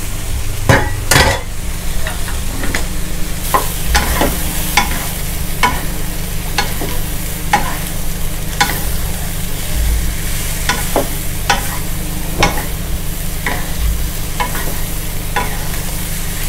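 White tongue mushrooms stir-fried in a wok for a Chinese oyster-sauce mushroom dish: loud continuous sizzling with brisk, repeated scrapes and clatters of the spatula against the pan, no voices.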